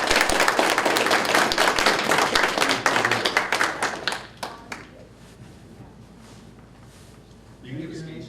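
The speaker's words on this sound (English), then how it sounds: "can I get a round of applause for our Board of..." A round of applause at a Ponca City public school board meeting, loud steady clapping from the room for about four seconds that tapers off into scattered claps and quiet, before a voice speaks at the end.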